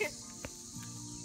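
Crickets chirping in the eerie darkness of a 2017 total solar eclipse, a faint, steady high trill with a soft background hiss and no clear voices over it.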